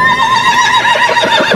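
A horse on a small-scale horse farm gives a loud, close whinny that rises and wavers through the whole short moment, with faint hoof shuffling underneath.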